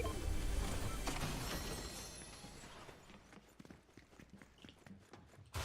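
Footsteps of an AI player in Fortnite patter in quick, uneven succession under a loud rushing wash that fades partway through, leaving scattered close steps and clicks toward the end.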